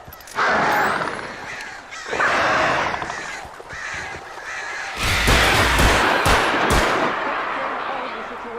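A flock of crows cawing harshly in the video game Alan Wake, repeated loud overlapping caws with flapping bursts and heavier impacts, close and chaotic.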